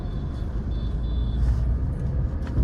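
Car engine pulling away gently at low revs during a driving lesson in Nawada, a steady low rumble with slight swells, close and continuous with no talk.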